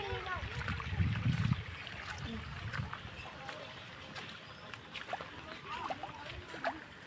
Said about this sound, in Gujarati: હવે તો પાણી આવી રીતે દોડ્યા જાય